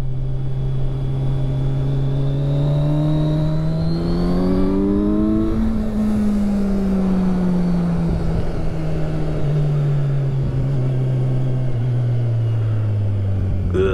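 A Kawasaki Ninja 1000SX rides along UK country roads, its inline-four engine note rising through a gear, then easing off and dropping, heard close from the rider's position over steady wind noise.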